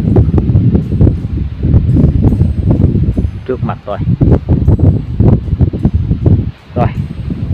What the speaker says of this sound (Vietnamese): hiện tại trời cũng đang gió rất là gió, quá trời